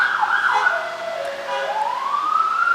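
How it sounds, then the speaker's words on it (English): A loud wailing siren sweeps up and down in pitch, close by and sustained, with no talking over it. "Sorry about the sirens."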